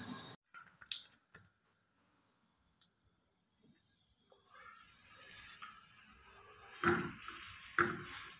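Egg paratha hitting a hot tawa griddle, a quiet start giving way to a steady broadband sizzle with a couple of louder sputtering bursts near the end, no talk.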